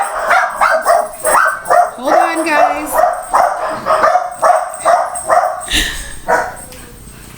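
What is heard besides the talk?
dogs barking excitedly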